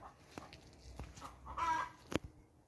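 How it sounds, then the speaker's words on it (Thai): Backyard chickens clucking nearby, a few short sharp calls and one brief louder squawk within a couple of seconds, with no talk. "ไก่ก็ร้องอยู่นั่นแหละน่าเบื่อหน่ายบางทีก็หนวกหูค่ะ"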